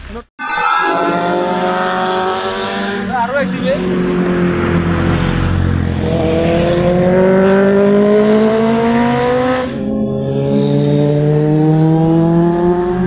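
Motorcycle engines rev loudly on a group ride in Guwahati on 15 August, rising and falling in long sustained whines close by, with someone talking over them.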